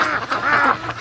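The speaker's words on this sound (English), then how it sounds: "The ducks are really, really loud." Free-range ducks by a lake and creek quack loudly in a brief, close chorus of overlapping calls, with no talking.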